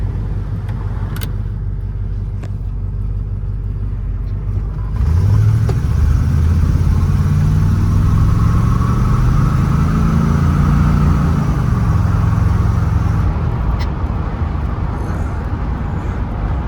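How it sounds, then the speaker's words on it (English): Cars passing on a road near a parked 1979 Trans Am, a steady traffic rumble that swells into a loud engine pass-by midway, then fades, with no one talking. "We'll let some of these cars pass us by."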